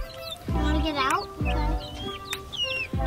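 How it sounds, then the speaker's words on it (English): A chicken clucks close by at someone's feet in a church setting, short clucks and rustling interleaved with children's voices talking nearby. "It's a chicken at my feet."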